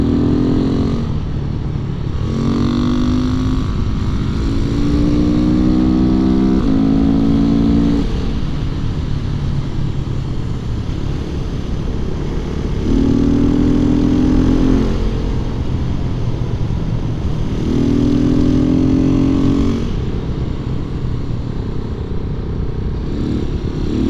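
A KTM 690 SMC R or Husqvarna Svartpilen 701 single-cylinder motorcycle accelerates hard on the road, its engine note climbing through repeated surges as the rider gets on the gas, with the rear tire spinning and traction control cutting in, steady and loud throughout.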